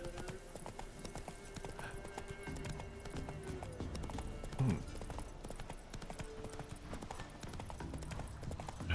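Geralt's horse Roach galloping in The Witcher 3, a steady quick clip-clop of hooves running throughout at moderate volume, with a brief snort partway through.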